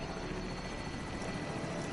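Helicopter in a PS4 video game, a continuous rotor drone with dense buzzing texture, steady and moderately loud throughout with no talk.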